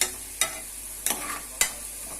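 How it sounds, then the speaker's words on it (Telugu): Cluster beans fry in a hot pan for a tempering, with a steady soft sizzle broken by three sharp scraping stirs of a spoon against the metal, close and clear with no talking. "కలుపుకోవాలి అండి బాగా వేగాలండి ఇవి"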